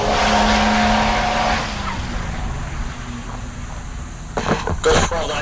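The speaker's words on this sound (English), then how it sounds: "That's that Toyota pickup." A Toyota pickup drag racing at Heartland Park Topeka: a loud engine roar fills the opening seconds and then fades into a distant drone, with sharper bursts near the end, while a commentator talks over it.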